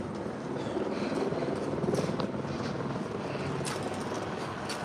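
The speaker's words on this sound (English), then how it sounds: "So we got a chopper up here in the air right there." Helicopter flying overhead above a crowd at a street protest in Los Angeles, a steady continuous rotor drone that stays loud and close throughout with a faint rise in the middle, and no talk over it.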